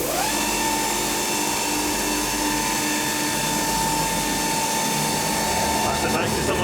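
A power sander with 150-grit paper works a Salix ACID Nitric Bomb cricket bat, giving a loud, steady, close whine and grinding hiss that holds throughout, with people talking over it.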